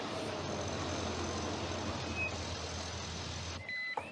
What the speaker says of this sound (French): On appelle ça une limousine, Martin.